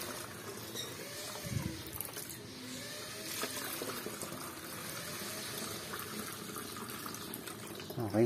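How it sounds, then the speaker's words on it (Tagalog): Water pours into a hydroponic nutrient solution, a faint, uneven trickle and splash with small clunks, while a person talks quietly in the background. "I-refill natin dito."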